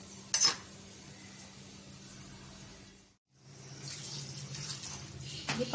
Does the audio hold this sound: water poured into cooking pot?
yes